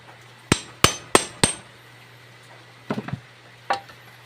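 A hand tool strikes sharply four times in quick succession on a Motorstar 110 motorcycle bolt, then after a pause a cluster of lighter knocks and one final hit, close and loud over a low hum.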